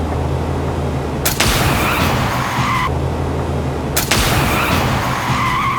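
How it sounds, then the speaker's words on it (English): A C4 explosion and a sniper rifle shot using the same sound effect: two loud, sharp blasts a few seconds apart, each bursting over a steady background rumble and trailing off in a noisy decay; no talking. "listen to the sound effect of the C4 beneath Junho's vehicle and the sniper gun"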